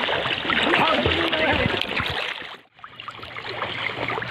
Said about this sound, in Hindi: हम लोग अभी नहा रहे हैं नदी में और नदी का मजा ले रहे हैं